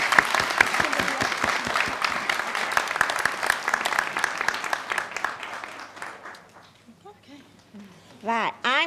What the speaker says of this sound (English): So if we can have a round of applause for Christine.